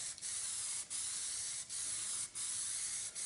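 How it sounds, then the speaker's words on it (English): Auto primer hisses from an aerosol can sprayed onto a flat-laid part, a steady close spray cut by short gaps roughly every second, with no voices. "Because I'm spraying this on the flat"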